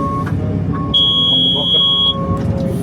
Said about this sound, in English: Don't worry about the beeping, that is just I am low on a diesel